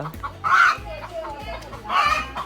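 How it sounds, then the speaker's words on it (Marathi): Chickens cluck and squawk at a Konkan village home, giving two loud, agitated bursts over a stretch of nearby chatter as people talk close by. "कोंबडी दुसरी"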